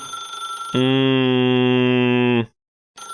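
A loud sustained electronic ring from a telephone in The Stanley Parable remade in Vertigo 2 VR, one long steady buzzing tone lasting under two seconds before cutting off abruptly into silence.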